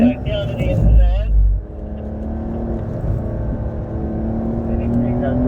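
A Porsche engine pulls under throttle on a track driving session, with a steady rising engine tone that follows a brief loud burst and talk at the start.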